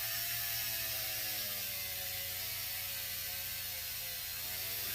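A power polisher spins a fine foam pad over a wet-sanded, polished surface, giving a steady, close, unbroken whir with a faint mechanical ratcheting texture throughout and no talk.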